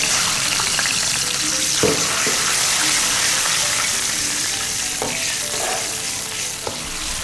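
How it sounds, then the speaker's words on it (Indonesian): Shallots sautéing in oil in a pan give off a steady, loud sizzle, broken by a few sharp scrapes and clicks of stirring. "Yang pertama kita tumis bawang merah."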